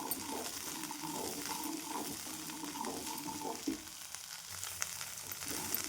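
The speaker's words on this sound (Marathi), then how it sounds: "हे पण छान परतून घेते" Green peas and garlic sauté in oil for a spicy matar thecha, giving a faint, continuous low sizzle with light scraping from stirring.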